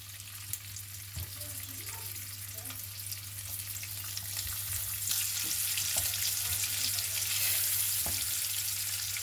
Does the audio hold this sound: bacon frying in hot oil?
yes